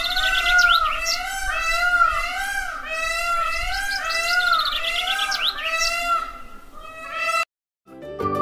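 A peacock calls over and over in loud, wavering harmonic cries, layered with other bird chirps for about seven seconds before breaking off to near silence and a short final note.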